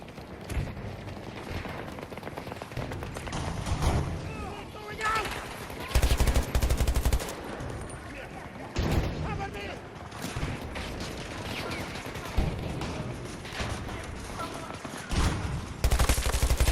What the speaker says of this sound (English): Just a volley of fire?